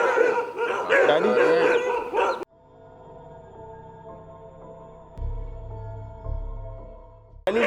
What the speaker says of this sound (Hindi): पहली बार ऐसा हुआ है किसी जगह पे हम पर जो है ना इतने सारे जो है ना वो भौंक रहे हैं